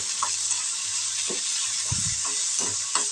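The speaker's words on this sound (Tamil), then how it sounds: "இந்த சுண்டைக்காயை வதக்குறதுக்கு தான் நம்ம இப்போ எண்ணெய் சேர்த்துருக்கோம் இதை இதில் போட்டு நல்லா வதக்கி எடுத்துக்கலாம்" Turkey berries (sundakkai) sauté in hot oil in a pan for rasam, with a steady loud sizzle and a few scraping stirs of a spoon over it.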